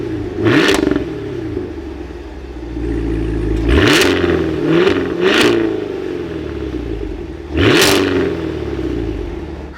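A 2023 Cadillac Escalade V AWD engine starts up and revs repeatedly, with four sharp throttle blips rising over a steady idle rumble, close and loud with no talking.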